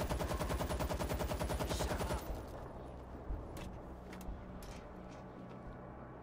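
Rapid automatic turret gunfire in the video game World War Z, loud and steady for about two seconds, then cutting off into a busier mix of scattered shots and game noise.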